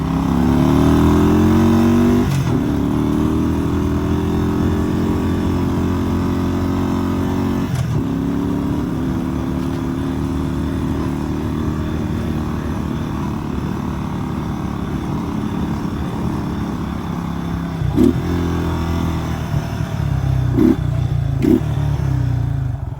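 Honda ATV engine while riding, a loud steady drone close by that holds for the whole stretch, with a few brief shifts and revs, and no talk.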